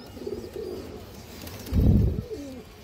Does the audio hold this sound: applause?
no